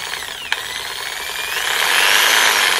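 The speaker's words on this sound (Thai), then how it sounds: "วันนี้ครับผมมีตัวช่วยเลื่อยชักไฟฟ้า Total" A Total TS100802 electric reciprocating saw runs steadily with a sharp click near the start, its whine climbing louder and harsher toward the end as speed increases. No one speaks.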